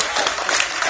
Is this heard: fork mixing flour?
no